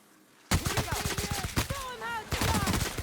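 Bursts of gunfire in The Outer Worlds break out suddenly after a quiet start, rattling in close, loud volleys while creature-like chirps and squeals rise and fall alongside.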